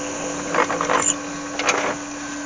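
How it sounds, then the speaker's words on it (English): A steady lathe hum, with a drill biting into a wood workpiece on the lathe in two short grinding bursts. "So I'll just quickly drill that hole now while I've got the dead centre"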